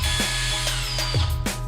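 A drill pre-drills screw holes in OSB while building a cat window frame, a whirring motor broken by a quick series of sharp ratcheting clicks at close range.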